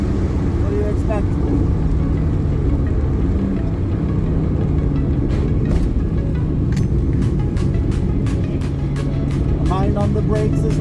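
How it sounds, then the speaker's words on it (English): A racing car's gearbox grinds on a trackday at Braga's Vasco Sameiro circuit, a loud continuous engine drone with harsh, rasping shifts and bursts throughout. "Stupid gearbox. Always grinding."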